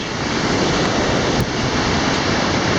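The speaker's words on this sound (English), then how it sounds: "So we're just crossing this river and we'll be stopping for lunch." Rushing river water on the Everest base camp trek, a loud steady broadband roar that holds unchanged and close throughout, with no voices over it.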